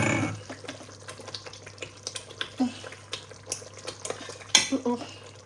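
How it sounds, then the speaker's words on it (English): Jollof rice base frying in a pot in a home kitchen, soft sizzling beneath intermittent clinks and scrapes of a spoon stirring against the pot. "So we leave it to fry for a little while."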